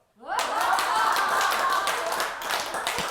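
Rapid, continuous hand clapping with people laughing loudly over it, a burst of lively applause-like slaps lasting a few seconds.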